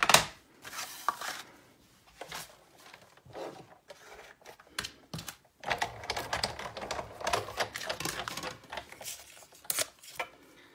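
Big Shot die-cutting machine cranking a tiny heart die through, irregular close clicking and ratcheting clatter in bursts with brief pauses, moderately quiet.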